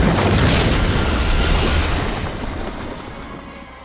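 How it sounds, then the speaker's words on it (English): A roaring blast of fire breath from Taash in Dragon Age: Veilguard fills the space with a loud, dense rush that slowly fades over a few seconds. "What does it feel like when you breathe fire like that?"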